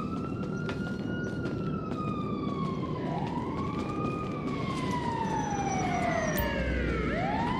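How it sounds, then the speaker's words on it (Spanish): An ambulance siren in the video game GTA V wails continuously, rising and falling in sweeping tones, fairly distant and steady throughout with no talk over it. "La ambulancia."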